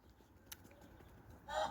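Chickens cluck in a farmyard, with a faint, brief call near the end of a very short, quiet stretch of background noise.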